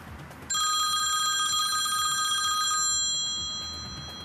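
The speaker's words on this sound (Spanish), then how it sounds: "Y de golpe suena el teléfono de Nico y cambia completamente la historia." A mobile phone rings with a steady electronic tone that starts abruptly, holds for about two and a half seconds over low background noise, then cuts off and leaves a fading hum.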